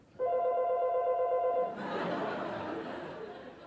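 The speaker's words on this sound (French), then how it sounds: "Tiens, le téléphone." A telephone bell rings loudly in steady repeated bursts on a stage set in a French boulevard theatre comedy, then cuts off and gives way to audience laughter and murmuring.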